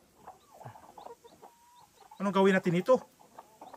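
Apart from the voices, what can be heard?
mother hen clucking near her chicks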